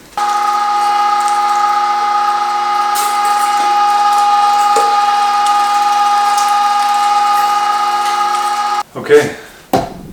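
A Weston electric meat grinder runs steadily, grinding venison, bacon and beef fat with a loud, continuous motor hum for most of the stretch before it stops near the end, followed by a few brief knocks.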